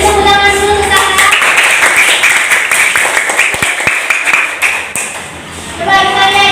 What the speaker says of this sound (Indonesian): Beri tepuk tangan dulu untuk Sarah